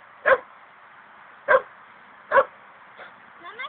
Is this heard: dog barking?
yes